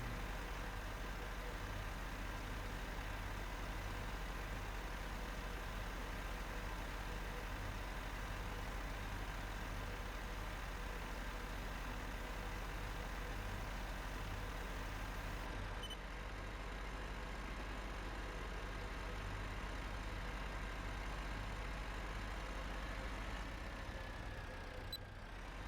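An older tractor engine idles in Farming Simulator 15, a steady low droning rumble with constant tone that continues throughout without talk, shifting slightly in character partway through.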